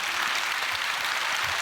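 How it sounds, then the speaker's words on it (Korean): A church congregation clapping together, a dense, even wash of many hands heard from within the room, continuous and moderately loud for a short burst with no talking. "하나님께 큰 박수 합시다"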